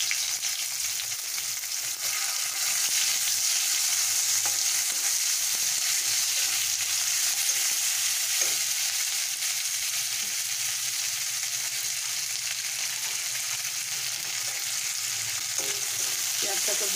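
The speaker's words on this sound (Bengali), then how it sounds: "পেঁয়াজটাকে ভালো করে আমি ভেজে নেব।" Onions frying in oil with cardamom pods and small cinnamon sticks for a mutton fat curry, giving a steady, close, even sizzle throughout with occasional faint stirring scrapes and no talking.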